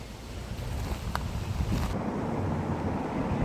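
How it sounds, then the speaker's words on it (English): Wind blowing past the gates of a building site, a steady broadband rush with heavy microphone buffeting throughout, loud and close, with no voices. "Looking here is the wind blowing through."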